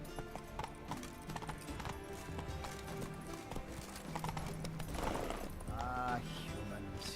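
Hooves clip-clop in a rapid gallop as a horse runs in The Witcher 3, with a whinny partway through, over game music and ambience.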